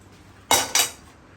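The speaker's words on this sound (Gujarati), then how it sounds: "તો એ દરમિયાન આપણે તેલ મૂકી દઈએ પાપડ તળવા માટે." A pan with oil for frying papad is set on a home stove with two quick, close metallic clanks of cookware, then quiet, with no talk.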